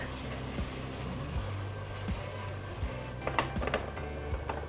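Meatballs fry in a pan with a steady soft sizzle, punctuated by several light scraping shakes of the pan at irregular intervals, close and fairly quiet with no talking.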